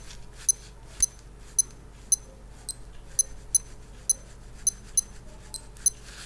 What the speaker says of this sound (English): then every time I press a button to change modes, it's going to make a little bit of a beep